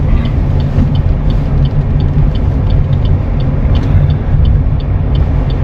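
A Hino vehicle's engine runs as a steady, loud low rumble close by, with faint periodic clicks and hiss from the air brake system mixed in throughout, and no talking.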